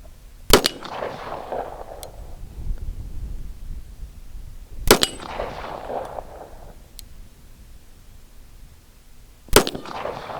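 Three sharp, loud .45 ACP shots from a Springfield Armory TRP 1911 pistol firing 200-grain lead semi-wadcutter loads, spaced about four to five seconds apart outdoors, each crack trailing off into a brief echo.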